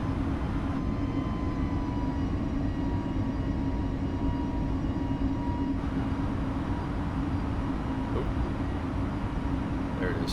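Vueling Airbus A321neo jet engines at climb thrust fill the space with a steady, loud, continuous roar and low hum, unbroken throughout with a faint tonal whine riding on top.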